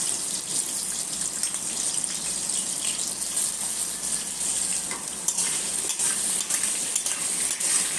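Potatoes fry in hot oil, a continuous close hiss and sizzle with stirring scrapes and spatters throughout, and no talking.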